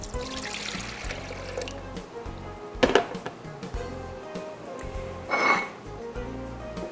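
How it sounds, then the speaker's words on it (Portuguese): About 300 ml of water poured into a blender jar, a steady trickling splash with a few louder knocks and bumps, heard close up. "Eu vou colocar aqui no nosso liquidificador mais ou menos 300 ml de água."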